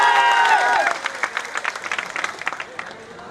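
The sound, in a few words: audience applause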